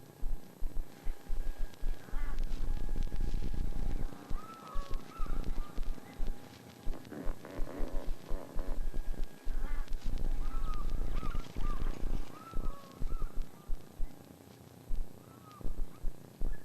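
Wild birds in the Okavango calling as they take flight after a fresh impala kill, a busy mix of squawks, caws and honking cries repeating over steady outdoor noise, fairly close and without talk.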